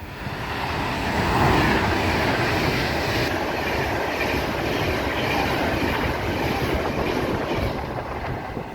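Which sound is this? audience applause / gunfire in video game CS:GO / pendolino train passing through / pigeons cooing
pendolino train passing through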